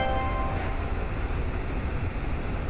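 A JR Shikoku one-man operated train runs along the rails, a loud continuous rumble and rattle of the carriage heard from inside, with faint high tonal whines.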